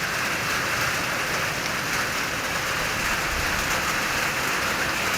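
Steady rain pours down in a continuous, dense hiss at a rural home in Thailand, close and unbroken for the whole stretch, with no voices.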